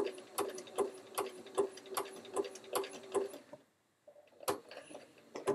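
A home sewing machine stitches a quilt block toward a point, its needle thumping in a quick steady rhythm, then stopping for a pause before a short burst of stitching resumes.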